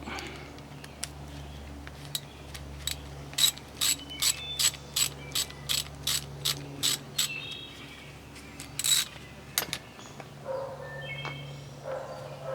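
Ratcheting tool clicking in a regular series while loosening a snug sprinkler fitting, with close sharp ratchet clicks over a low steady hum and a few faint metallic sounds afterward.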